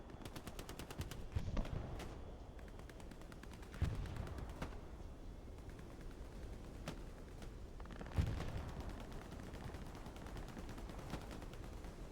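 Machine gun fire in the Hell Let Loose battle game, heard as faint rapid bursts of gunshots over continuous distant battle rumble, with a couple of heavier thumps.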